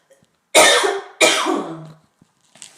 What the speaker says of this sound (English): this cough, I just can't shake it